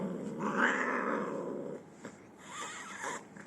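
A cat that dislikes being held growls and caterwauls while being brushed with a grooming glove, a loud, drawn-out, rising and falling vocal cry up close, followed by quieter grumbling yowls.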